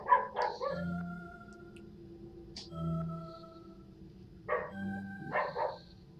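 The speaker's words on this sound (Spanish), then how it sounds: "el perro del vecino" A neighbour's dog barks in short bursts, a few yaps close together, then a pause and another cluster, heard indoors behind low electronic game music.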